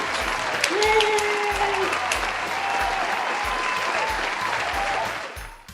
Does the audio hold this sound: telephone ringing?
no